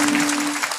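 Audience clapping at a Marathi devotional discourse: a steady, dense patter of many hands held at an even level for under a second, with a sustained tone humming underneath.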